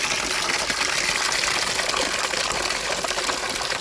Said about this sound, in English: So you see, I just put water in here.